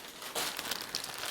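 Plastic bag packaging crinkles up close, a short burst of crackly rustling that flares in a few quick bursts.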